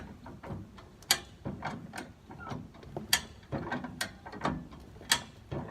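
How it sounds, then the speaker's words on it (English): Jack cranked up to break down a tire bead, a series of repeated ratcheting clicks and clanks in an uneven rhythm, moderately close and alone. "So once you get it under there, what you want to do, start jacking it up"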